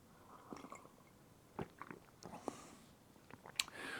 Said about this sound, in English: Just another slurp.